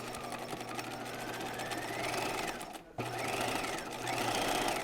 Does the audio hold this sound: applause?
no